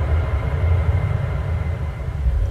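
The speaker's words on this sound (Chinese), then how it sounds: "我那个飞机从这儿过来了，来 飞过去， 飞过去了" A jet airplane flying past, reproduced through the 20-speaker sound system of a Dongfeng eπ car: a loud, steady low-frequency roar and rumble that stays full and continuous throughout, with no voices over it.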